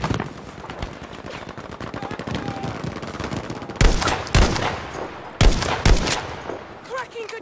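Rapid machine-gun fire rattles through a Battlefield 5 Breakthrough battle, with a steady stream of shots followed by several louder, heavier blasts near the end.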